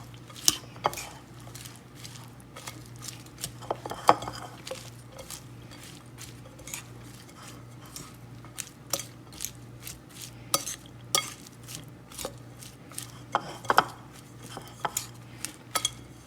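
Coleslaw being mixed with sauce in a bowl, a series of close, irregular scraping and clinking strokes of a utensil against the dish over a low steady hum, with no one talking.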